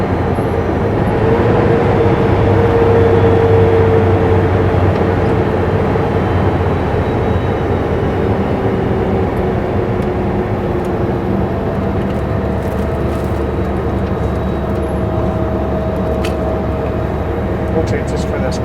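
A Super B semi truck drives from Osoyoos toward Oliver, heard from inside as a loud, continuous low engine drone with shifts in pitch as it works through gears approaching a stop.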